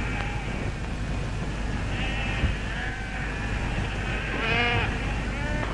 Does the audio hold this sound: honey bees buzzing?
no